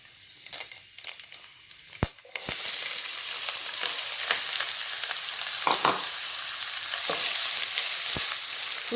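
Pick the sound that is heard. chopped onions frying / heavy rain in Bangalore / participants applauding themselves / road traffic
chopped onions frying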